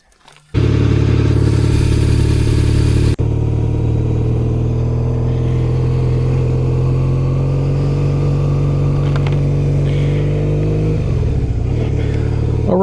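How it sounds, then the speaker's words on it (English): A motorcycle leaving a campsite starts up after a brief quiet moment and then runs loud and close with a steady engine drone and slight changes in pitch. "I'm gonna get on the bike and head on out"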